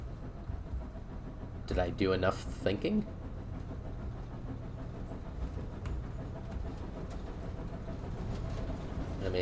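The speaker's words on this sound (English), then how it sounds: "Well, I hear a train noise now." A train approaching in the video game Pathologic 2, a low, steady rumble with faint clattering that holds throughout while someone speaks briefly over it.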